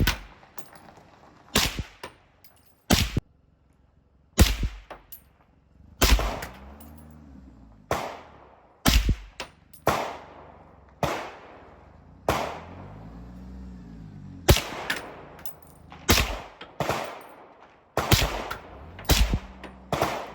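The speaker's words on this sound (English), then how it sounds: "You're gonna get more gas and debris kicking back at you when you're shooting supersonic rounds" Supersonic 300 Blackout rounds fired from a suppressed rifle: about a dozen and a half sharp, loud cracks come one at a time at irregular intervals, each trailing a short ringing echo, with no voices.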